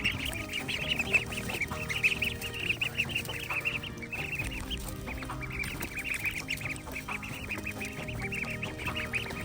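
A busy flock of chickens and ducks clucks and quacks continuously, many birds calling at once close by, a steady chatter without pause.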